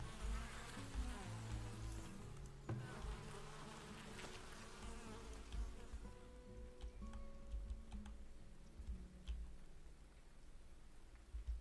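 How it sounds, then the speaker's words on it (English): Bees buzz steadily and softly in the medieval town-building game Farthest Frontier, mixed with a light patter like rain and faint ambient tones. "Beautiful bees"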